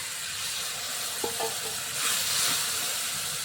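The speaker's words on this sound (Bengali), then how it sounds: "একটু পানি ঢেলে দেবো।" Water splashes into hot oil in a pan for a fish roe curry with turmeric powder and salt, giving a steady loud sizzle and hiss that swells into a steamy burst about two seconds in.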